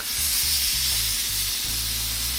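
Japanese A5 wagyu steak, just flipped, sears in a hot pan with a loud, steady sizzle and hiss, plus a few low thumps and scrapes as it settles.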